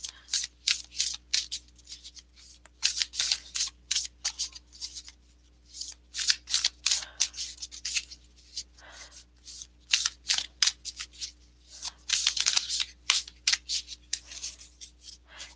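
Oracle cards being shuffled for a reading, a long run of crisp riffling and sliding bursts in quick irregular rhythm, close and moderately loud with no voice.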